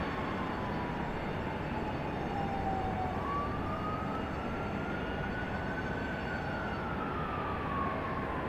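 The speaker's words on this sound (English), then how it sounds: "I hear sirens again." A faint siren wails slowly up and down in the distance at Raleigh-Durham International Airport, under a constant roar of engine and background noise.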